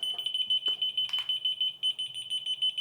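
A cheap locator alarm for a controller, newly fitted with a battery, beeps in a rapid, steady stream of sharp, high-pitched electronic tones. It stays close and fairly quiet and is broken briefly by a couple of clicks.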